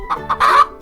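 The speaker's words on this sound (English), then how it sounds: "Chickens say cluck cluck." A chicken clucks sharply at close range, giving two short clucks and then a longer drawn-out squawk.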